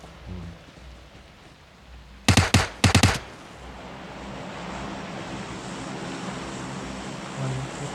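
Two short, loud bursts of rapid gunfire crackle in quick succession during a battle royale video game, then a steady ambient rumble continues behind them.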